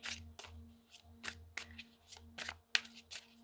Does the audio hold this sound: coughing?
no